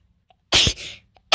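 A person sneezes sharply twice, close and loud, with a short gap between the bursts while a Minecraft-style world is being set up.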